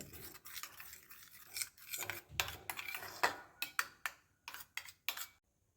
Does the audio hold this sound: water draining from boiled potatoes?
no